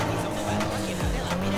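Racing car engine roaring with a brief tire squeal, loud and close, as a car speeds through a turn in Need for Speed Heat.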